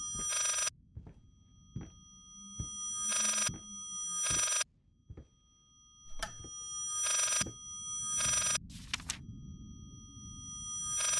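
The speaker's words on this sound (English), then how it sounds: "Is that a phone?" Old-fashioned telephone bell ringing in the VR horror game Layers of Fear VR, loud repeated bursts of shrill ringing separated by short silences, with soft thuds and faint ambient rumble between rings.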